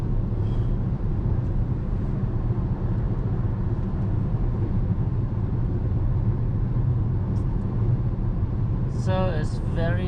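Steady interior road rumble of a Toyota Prius driving on adaptive cruise control, a constant low drone with someone talking over it.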